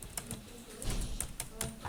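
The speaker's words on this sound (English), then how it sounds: "now if I start typing now" Typing on a computer keyboard while entering data into an Excel spreadsheet gives quick, irregular clicking keystrokes, close and clear, with no voice over them.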